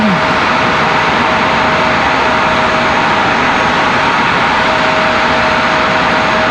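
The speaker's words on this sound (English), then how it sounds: "Jazz 838 coming in from Toronto, 1 hour 18 minutes of flight time for that CRJ" Air Canada Jazz CRJ regional jet arriving at Raleigh-Durham from Toronto, a loud continuous engine roar with a steady whine, close and alone.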